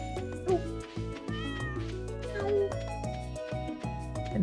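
A cat meows a couple of times inside the farming game Stardew Valley, the short calls sitting over a steady bed of cheerful background music at moderate volume.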